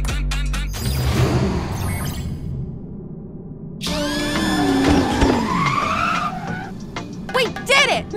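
Cars race and skid in the Fast & Furious Spy Racers video game, with loud engine revs, sliding tire squeals and sweeping pitch changes around a brief quiet gap, plus bursts of voices and effects.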